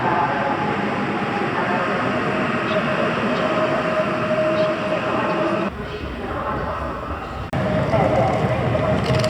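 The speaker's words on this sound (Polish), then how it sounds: "dojeżdża pociąg Korfanty relacji Białystok Bielsko-Biała Główna" The Intercity train Korfanty, Białystok to Bielsko-Biała Główna, pulls into Warszawa Zachodnia station, recorded from behind glass: a loud, continuous rumble of wheels and carriages, with a brief dip and a sharp bump near the end.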